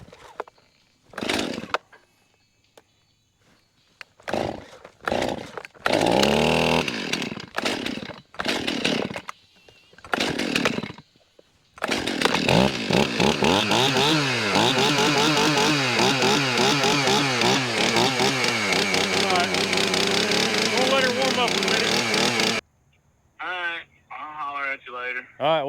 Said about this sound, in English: First time I've cranked the chainsaw today.